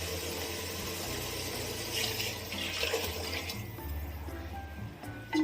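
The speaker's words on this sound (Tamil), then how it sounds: "ஒரு சொம்பு தண்ணியை சேர்த்துக்கிறேன்." Water is poured from a vessel into a pot of rice and vegetables for white vegetable biryani, a steady gushing splash close up that swells midway and then settles into a trickle, with no voices.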